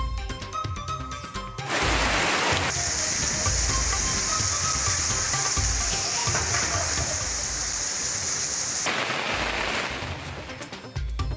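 Heavy rain pours steadily in a broad, hissing roar that swells in and holds for most of the stretch, loud and dense, before easing.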